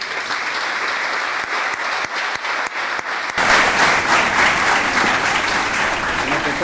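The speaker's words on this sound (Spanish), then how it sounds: "Un muy fuerte aplauso para todos ellos." Audience at a university talk in Argentina bursts into strong, sustained applause, a dense wash of many hands clapping that swells louder midway and continues steadily.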